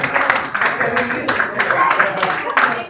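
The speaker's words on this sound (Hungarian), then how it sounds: "Nagy tapsot szeretnék kérni mindenkitől" Wedding guests clap in a burst of scattered, lively applause at a Hungarian reception quiz game, the claps steady and close for a few seconds while voices chatter underneath.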